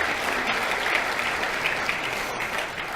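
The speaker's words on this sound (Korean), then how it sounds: "그분들에게도 여러분 박수 한번 좀 보내주시기 바랍니다" An audience at a national committee meeting of a Korean political party gives steady, full applause that holds evenly throughout and softens slightly at the end.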